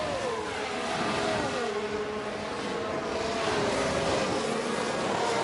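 An F1 car in the F1 Manager 23 racing game screams past, its high engine whine rising and falling in pitch as it sweeps by over a continuous background roar of other cars.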